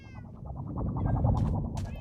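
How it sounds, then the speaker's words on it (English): Minecraft cats kept in a tower meowing repeatedly in quick succession, close and fairly loud, with overlapping game sounds and no talking. "this main tower here is where I'm keeping all of the cats"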